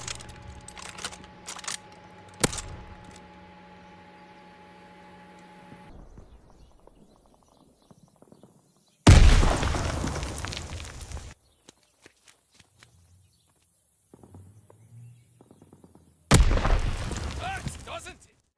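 Gunfire from Call of Duty Vanguard on the Bocage map comes in two loud, dense bursts of a couple of seconds each, separated by quiet stretches with faint footsteps and clicks.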